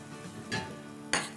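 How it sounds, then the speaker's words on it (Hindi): Whole cumin seeds frying in hot oil for an aubergine bharta, giving a steady low sizzle with two brief louder bursts of hiss, no talking. "इसको हम 30 सेकेंड तक भून लेते हैं।"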